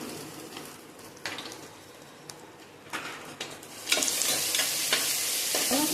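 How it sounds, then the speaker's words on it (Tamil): Cinnamon, cloves, cardamom and curry leaves sizzle in hot oil in a pan while a spoon stirs with intermittent scrapes, and the frying grows louder and steadier toward the end. "பட்டை, கிராம்பு, ஏலக்காய், கருவேப்பிலை எல்லாம் போட்டு வதக்கிட்டுமா"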